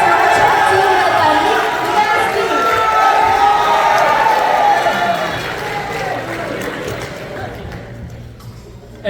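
A crowd at a live college show cheers and shouts for the tech crew, a loud, dense wash of voices that stays full for several seconds, then slowly thins and fades toward the end.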